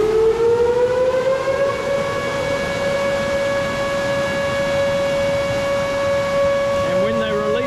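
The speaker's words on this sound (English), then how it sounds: "there's a siren that goes off whenever they release water." A hydro dam siren upstream at Beavers Bend State Park sounds its warning for a water release, one long, loud, steady wail whose pitch rises slightly at the start and then holds, carrying clearly over faint background noise.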